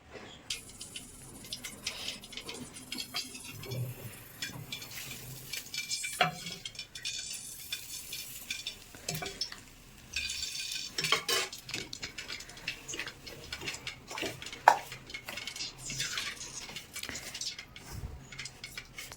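A spoon scrapes and clinks against a bowl as spice stuffing is stirred with oil for a red chilli pickle, giving soft irregular taps and scrapes, close by and fairly quiet, with no talking.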